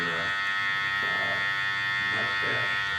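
Electric hair clipper buzzing steadily during a taper fade haircut, a close, constant drone that runs the whole time, with a voice speaking softly underneath.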